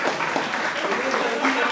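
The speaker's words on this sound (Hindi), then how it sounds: "मुझे सर्दी लगती है, इसलिए तालियां बजती रहनी चाहिए।" Audience clapping at a Hindi kavi sammelan poetry recital at Gurugram University, sustained dense applause with a voice speaking over it.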